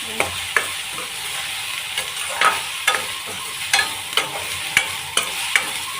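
Food sizzles steadily in a pan while a utensil stirs it, scraping with regular sharp clicks as it browns; no one speaks.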